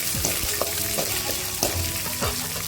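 Onion, garlic and chili sautéing in a pan for toor dal thuvaiyal, a loud, steady close-up sizzle with repeated stirring scrapes throughout, and no talking.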